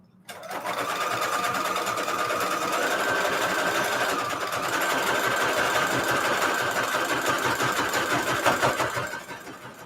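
A pedal-operated sewing machine stitching pockets from paper scraps runs in one continuous, close, mechanical whir with a fast rapid chatter, starting abruptly and slowing near the end, no voices.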